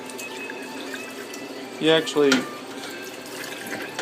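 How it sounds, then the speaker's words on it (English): Water rushes steadily through a new wort chiller in a home-brewing setup, a continuous hiss with a brief voice speaking over it midway. "Got the new wort chiller going."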